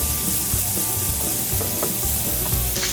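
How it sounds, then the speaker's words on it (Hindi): Minced meat being stirred into light-browned onions in a pan, with a steady close sizzle and frying hiss and occasional soft scrapes of stirring throughout. "अब जो हमने कीमा भी रखा था वो इसमें मिक्स कर देंगे"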